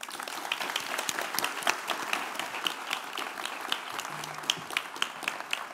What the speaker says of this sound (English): let's give a big round of applause to our guest